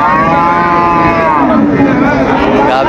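A Sahiwal cow calls with a long, loud, close moo at a cattle market in Dinajpur, its drawn-out bellow dominating while faint market noise sits underneath.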